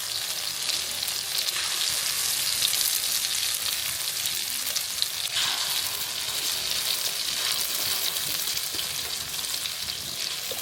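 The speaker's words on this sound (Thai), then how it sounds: "เราก็ค่อยทอดไปนะคะ" Oil sizzles and crackles steadily as food fries, a dense hiss with no voices, continuous throughout.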